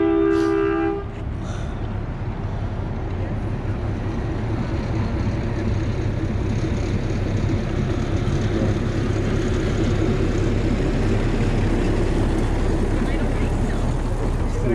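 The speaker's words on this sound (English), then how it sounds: "Here comes the little train." Zilker Zephyr miniature train passing through Zilker Park in Austin, Texas, a steady low rumble with a brief horn-like tone near the start, continuous and fairly close, with voices talking over it.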